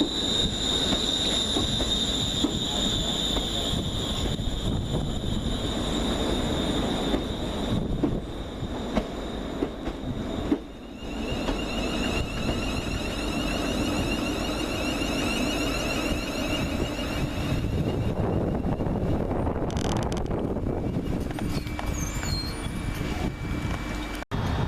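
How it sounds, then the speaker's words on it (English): Class 380 electric train departing Hairmyres station, a steady loud rumble of wheels on rails with squealing tones and clicking over joints, passing close throughout without talk. "So here's 380 111 departing Hairmyres."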